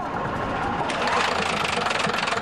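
An 8.3-liter six-cylinder pre-chamber engine with glow plugs, rated 145 horsepower, runs close by with a steady rhythmic knocking throb and faint talk in the background.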